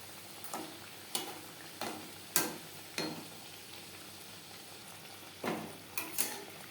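Labong Latika, a Bengali clove-sealed pastry sweet, frying in hot oil while pieces are turned: a steady low sizzle broken by about seven sharp utensil clacks and scrapes at irregular intervals, close up, with no talking.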